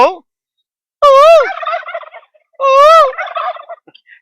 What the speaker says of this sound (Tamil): இந்த மாதிரி வான்கோழி இருக்கிற இடத்துல கூவும் கூவுனா அது சேர்ந்து அது சேர்ந்து கூவும்